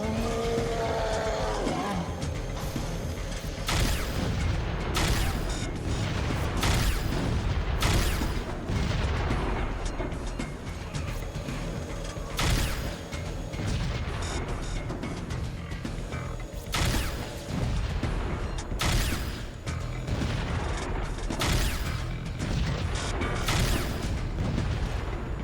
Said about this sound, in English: Sending a rocket after one enemy overkill?